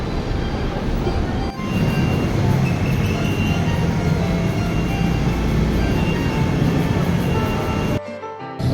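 A metro train at Ayala MRT Station gives a steady, loud rumble and rolling rail noise throughout, cutting out abruptly near the end.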